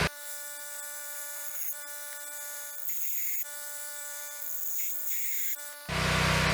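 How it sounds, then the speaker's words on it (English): A drill bores 5/32 holes in a steel knife blank, a steady high motor whine with grinding bursts as the bit bites in and releases, ending in a louder harsh rush of noise. "So let's go ahead and get these holes drilled."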